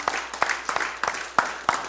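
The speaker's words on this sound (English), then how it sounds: "Let's give the Lord a hand clap for their improvement." Congregation in a church service clapping hands in praise, a quick run of sharp claps with uneven rhythm, moderately loud and close, with no talk over it.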